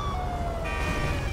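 Police car siren in the GTA 5 video game wails steadily in a brief burst, with a continuous rising and falling tone over a dense, loud rumble of traffic and engine noise.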